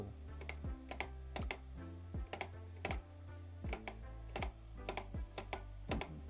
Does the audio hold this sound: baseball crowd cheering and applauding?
no